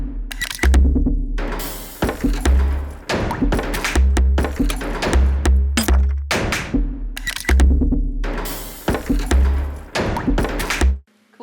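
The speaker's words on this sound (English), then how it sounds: "So it's just the EDM pop kit." A punchy electronic drum kit plays a steady pattern of booming kicks, sharp snares and crisp hi-hats, loud and close with no voices.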